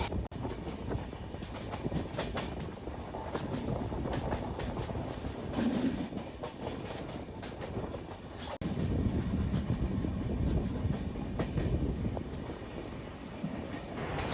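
Train 12530, the Lucknow–Patliputra Superfast Express, runs with a steady, rumbling roar and faint rhythmic clatter of wheels on rails. The noise is continuous, with a brief break partway through.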